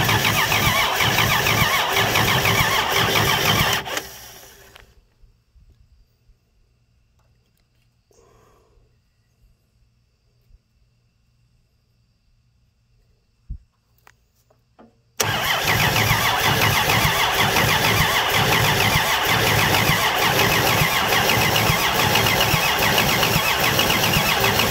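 A 239 V6 engine fires up for the first time and runs loud and rough, cuts out into near silence with faint clicks, then roars back to life and keeps running steadily.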